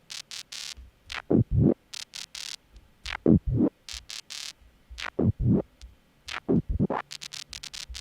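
Gated, squelchy FM-modulated psytrance synth patch programmed in Serum, sounding as short rhythmic bursts with sweeping downward pitch swoops and choppy gated stabs, alone and fairly loud.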